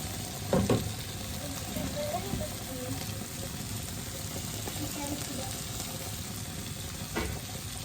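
Capelin coated in salt and flour fry in oil in a pan, giving a faint, steady sizzle that persists throughout, with a couple of soft clatters near the start and end.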